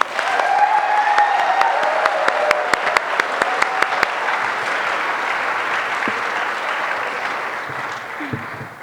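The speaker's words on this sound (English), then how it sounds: "Let's just give him another round of applause." A full room applauding at a queer youth leadership awards ceremony, loud continuous clapping with crisp close hand claps in the first few seconds, then an even, sustained wash that eases slightly toward the end.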